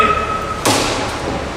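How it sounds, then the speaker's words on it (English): A frisbee thrown and bouncing off a wall during a trick shot at Dodger Stadium, heard as a single sharp thud over a steady background hum. "I'm gonna bounce it off this wall to you."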